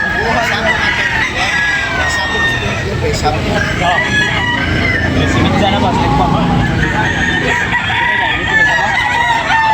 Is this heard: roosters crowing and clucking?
yes